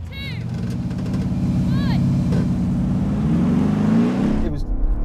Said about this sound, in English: let's just crack on with the drag race